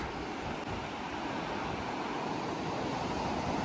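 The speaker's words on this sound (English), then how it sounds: "This is the surf." Ocean surf rolls onto a Maine beach as a continuous broadband wash, steady and fairly soft, with wind noise buffeting the microphone and no voices.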